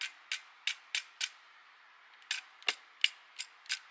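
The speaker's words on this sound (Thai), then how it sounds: "ตัวจอยที่มันมีตัวล็อกนะผมฟังเสียงนะครับ" Sharp ratchet clicks from the locking leg joint of a BIKKU VW-011 Ice Cyber Bear toy figure, about ten close, crisp clicks in two bursts with a short pause between, no talking.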